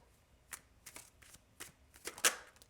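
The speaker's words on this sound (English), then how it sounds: "I'm just going to pull cards and get going right away." Tarot deck being shuffled and cards pulled: a quick series of soft papery riffles and flicks up close, ending in a sharper card snap, with no talking.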